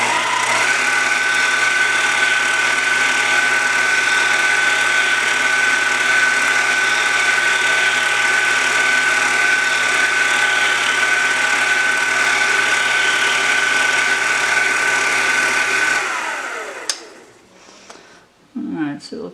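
Mini lathe without a digital display spinning at its top speed of roughly 1780 RPM, a loud steady mechanical whine with constant tonal hum for about sixteen seconds before it winds down and stops, followed by faint handling noises.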